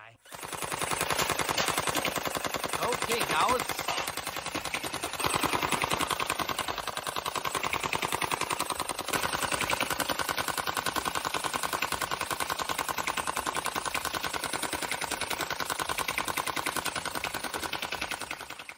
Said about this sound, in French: Tout d'abord, nous allons tirer sur ces gobelets rouges